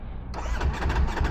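A car engine cranks and catches, then settles into a loud, close mid-pitched running rumble within about a second, with no voices.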